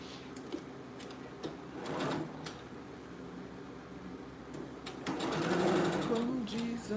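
A domestic sewing machine stitching a shirt being reworked into a blouse, heard in two short, fairly quiet bursts of whirring against a soft room background, with some talking.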